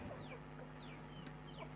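A tame chicken clucks softly in a few short, faint calls over a low steady hum.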